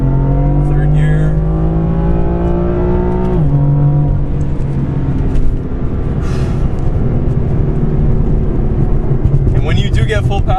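A BMW M4 F82 engine pulls hard on an open road, its loud drone climbing in pitch. It drops sharply at an upshift into third gear and then rises again, with a voice talking over the cabin noise.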